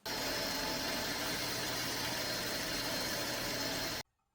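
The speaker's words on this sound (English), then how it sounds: "First I'm going to use the bandsaw to cut the blanks down to size." Bandsaw cutting bloodwood blanks to size gives a loud, steady whirring drone that runs for about four seconds and then stops abruptly.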